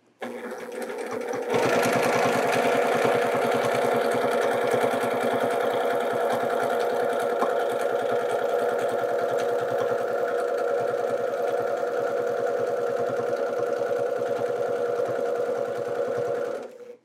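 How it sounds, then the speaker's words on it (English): A domestic sewing machine runs steadily during free motion quilting, starting abruptly and holding a continuous close whirring hum with a rapid stitching rhythm for about fifteen seconds before stopping. "We're just gonna stitch back along this row."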